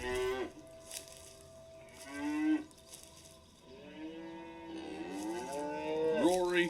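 Within an animated SCP story set on a farm, a cow gives several long, drawn-out moos, some rising and wavering, over a low background, with a voice briefly audible.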